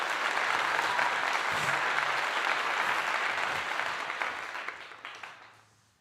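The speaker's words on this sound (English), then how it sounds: "Round of applause for that." A crowd gives steady, dense applause that stays full for several seconds, then thins out and fades away toward the end.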